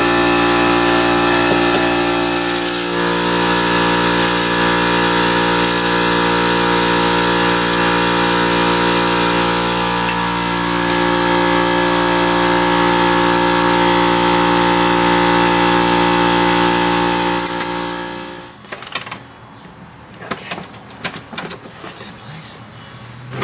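A power tool drives the shock bolts back in on a 2009 Dodge Challenger SRT8 during a rear sway bar install. It runs loud and steady for most of the clip, then stops, and a few sharp metallic clanks follow.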